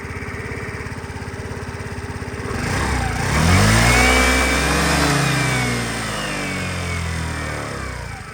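A Suzuki Lets G Basket scooter engine idles steadily up close, then revs up and settles back into a smooth running hum.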